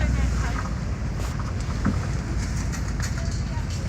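Strong wind blows hard outdoors, buffeting the microphone with a constant, loud, rumbling roar that never lets up.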